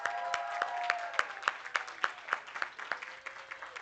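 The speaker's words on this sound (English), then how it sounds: "That deserves a round of applause, right?" Applause from an audience at a holiday market press preview, heard as a steady run of sharp, rhythmic claps at moderate level with no talk over it.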